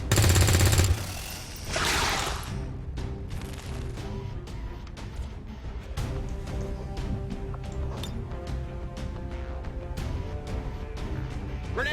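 Gunfire in the XCOM 2 video game, a loud shot at the start followed by a crashing impact, then lower rumbling game effects.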